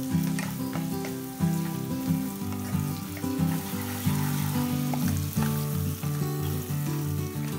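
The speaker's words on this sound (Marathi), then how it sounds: "त्याच्यात आता कांदा टाकते फोडणीला" Onion dropped into two spoons of hot oil for tempering, for Malvani-style kombadi vade, crackles and sizzles steadily under a loud layer of tonal background music.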